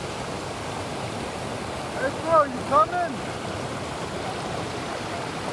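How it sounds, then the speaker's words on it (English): Rushing creek water in Johnston Canyon, Banff, with the upper falls nearby, gives a steady broadband roar throughout, while a man briefly calls out over it partway through. "above the rushing creek."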